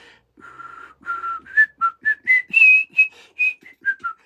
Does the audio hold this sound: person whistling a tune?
yes